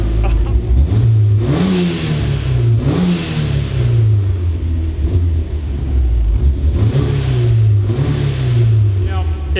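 The engine of a turbocharged Mazda Miata, fitted with an intercooler, revs repeatedly while the car stands still. Its pitch climbs and falls in several loud close sweeps, with turbo whir and hiss over the exhaust note.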